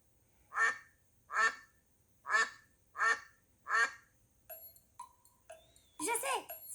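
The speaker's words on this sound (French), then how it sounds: "c'est le coin-coin du canard" Five loud, evenly spaced duck quacks ring out one after another, followed by a few short electronic chirps and a burst of brighter noise.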